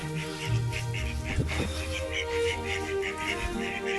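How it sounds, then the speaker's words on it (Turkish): Mallard ducks on a lake in Warsaw quack softly in the distance over a steady hum of outdoor background noise. "Gölün üstünde yürüyen ördekler, yeşil başlı"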